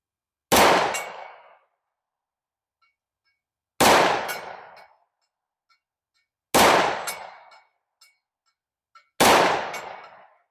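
Four loud, sharp gunshots from a .357 SIG S&W M&P 2.0 Metal pistol, spaced a few seconds apart. Each crack rings out and decays briefly, with near silence between the shots.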